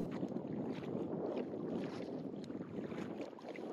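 Kayak paddling on the Großer Plöner See past a sailing club and campground, with a steady wash of water and wind noise throughout and no distinct strokes standing out.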